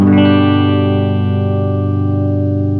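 An electric guitar strums a single clean chord through a Plexi amp and pedalboard, ringing out loud and close before sustaining and slowly fading with a slight shimmer.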